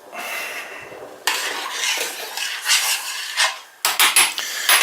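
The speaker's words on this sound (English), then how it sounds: "Right, I need to stir the rice" Rice stirred in a pot while cooking a takeaway-style Chinese chicken curry at home: close, uneven scraping and rubbing strokes against the pot, pausing briefly, then returning in sharper bursts, with no talk.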